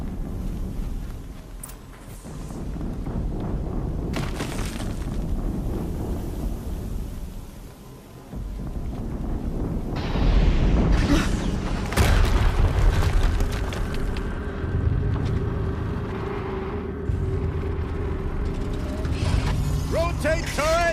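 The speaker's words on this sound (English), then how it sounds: "Another explosion." A loud explosion in the Horizon Zero Dawn video game booms and rumbles, with heavy low crashes and mechanical clatter following, mixed with game sounds and talk.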